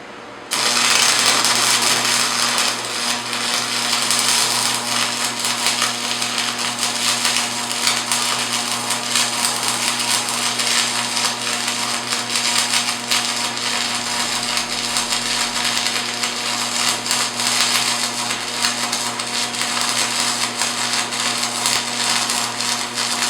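A Hobart Stickmate stick welder runs a bead with panel-mount quick-disconnect connectors, giving a steady, close crackling hiss over a constant low hum that continues without a break.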